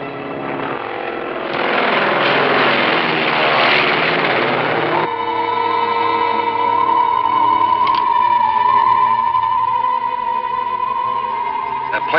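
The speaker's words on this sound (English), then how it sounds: "That plane's headed this way." A propeller plane drones steadily and loudly overhead, its engine swelling to a rough roar, then settling into a sustained buzzing hum with a strong steady tone.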